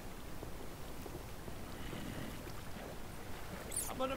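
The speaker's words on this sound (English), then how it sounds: "I hate water like this, flowing water." Flowing water in Minecraft gives a soft, steady rushing wash with faint splashes, low in level and continuous, with a brief brighter splash near the end.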